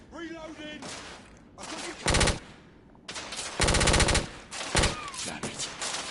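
Video game gun firing in rapid automatic bursts, several loud, tightly packed volleys separated by short gaps, close and dominant over faint background game sounds.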